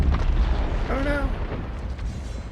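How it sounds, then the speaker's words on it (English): Loud booming explosion in the video game Pathfinder: Wrath of the Righteous, a sustained rumbling blast with a brief tonal whine partway through, filling the whole moment. "An explosion."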